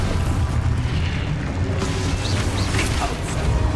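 In the Hogwarts Legacy video game, an Expulso spell goes off as a dense, booming blast, a continuous loud rumble of explosion and crashing debris with no speech over it.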